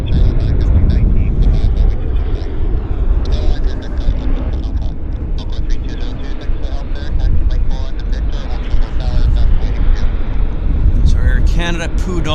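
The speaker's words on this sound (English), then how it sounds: "We got another jet landing here." Steady broadband roar of a jet landing at Vancouver airport, heard from an outdoor spotting position with wind buffeting the microphone and someone talking over the engine noise throughout.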